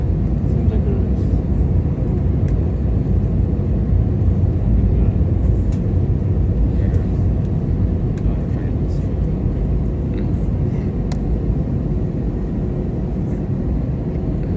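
A China Southern Airbus A321-211 jet at Shanghai Pudong airport gives a steady, loud low engine rumble that holds for the whole stretch, with faint voices talking over it.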